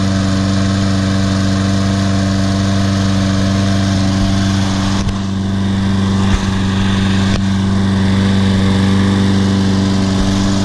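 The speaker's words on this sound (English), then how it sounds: "Lawnmower." A Toro Recycler SmartStow lawnmower, model 20339, runs steadily close by with a loud, constant small-engine drone and a few faint clicks over it, and no one speaks.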